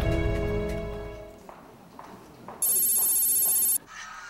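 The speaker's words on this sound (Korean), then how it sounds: "평범했던 어느 날 오후, 그날 김정은은 홍지길의 전화를 받았다." A telephone bell rings in short repeated bursts, followed by a loud, sustained electronic trill, heard alone and fairly close with no talking.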